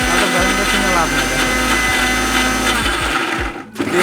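A Gazi Smiss blender motor whirs loud and steady, its hum broken by several brief dips and surges as the load shifts, then it cuts out near the end.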